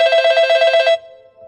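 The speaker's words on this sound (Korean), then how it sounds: "집으로 전화가 걸려왔다" A home telephone bell rings in one loud, close burst of rapid trilling that stops abruptly, leaving a faint fading tone, with no voices.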